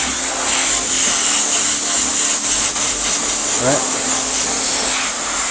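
An airbrush sprays gold paint around a stencil on a hat, giving a loud, steady hiss that fills the whole stretch, with a brief spoken word partway through.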